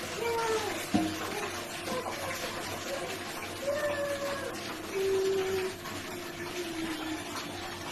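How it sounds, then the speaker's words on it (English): Water is poured from a container onto indoor potted plants, producing a steady close splashing trickle that swells in places, with faint tonal background sounds mixed in. "Go ahead and add some more water."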